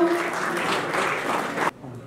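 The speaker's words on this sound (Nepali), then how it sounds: "कृपया एकपटक जोरदार तालीले हामी सम्मान गरौँ" Applause at a district-level inter-school quiz contest event honoring the organization's chairman, a dense, steady round of clapping that cuts off abruptly near the end, with a voice briefly audible over it.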